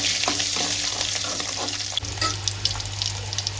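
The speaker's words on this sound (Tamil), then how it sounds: "பூண்டை போட்டு நல்லா வதக்கிடுக்கலாங்க." Garlic sautéing in hot oil after mustard seeds and fenugreek have spluttered, for a Tamil tamarind curry: a steady close sizzle with soft stirring scrapes and occasional pops.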